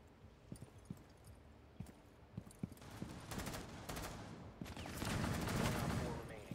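Glitchy, bugged gunfire in the Rainbow Six Siege video game: sparse sharp clicks at first, then building into dense, loud overlapping shots and rattling bursts, with faint voices in the mix.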